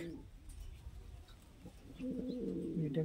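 A moulting high-flying fancy pigeon coos close by, a low throaty warbling that swells in the last second after quieter background chirps and rustling.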